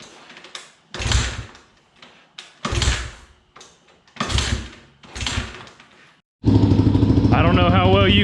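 Honda XR400R motorcycle engine starts after a run of short, speech-like bursts, then idles steadily and loudly with a continuous, close-up running tone.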